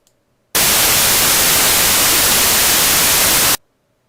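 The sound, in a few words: Gaussian white noise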